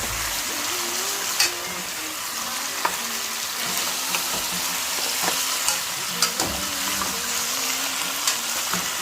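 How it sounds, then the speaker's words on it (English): A steady sizzle comes from a cooking pot of cow foot and beans, with repeated scrapes and light clinks of the stirring spoon spread through it and no voices. "I'm gonna go ahead and stir."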